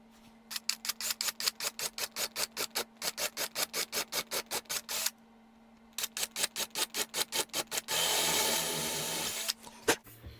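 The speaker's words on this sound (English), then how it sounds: "Now I'm going to drill out these holes so they are just as big as these" A power drill bores out 8 mm holes in a wooden doubleneck guitar body, pulsing in rapid repeated bursts, pausing briefly, resuming, then ending in a sustained, louder grinding run.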